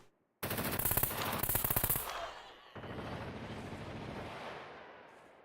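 Rifle fire in a video game bursts out as a rapid, loud automatic volley lasting about two seconds, followed by a rumbling roar of aftermath and a second rolling wash of gunfire sound, with no talking.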